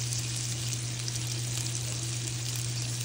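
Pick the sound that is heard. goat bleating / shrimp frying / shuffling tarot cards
shrimp frying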